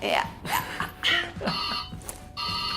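A telephone rings for an incoming call, with loud repeated electronic tones in bursts that start again after short pauses, up close, while a voice speaks briefly over it.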